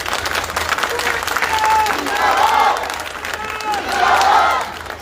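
A crowd at a rural campaign outreach event for an independent candidate claps and cheers in swelling waves, with shouts rising over sustained applause, close and loud throughout.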